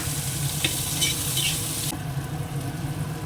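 Onions frying in oil with cumin, bay leaves, spices and salt, a steady close sizzle with a few scraping stirs before the hiss suddenly drops to a quieter simmer, with no talking.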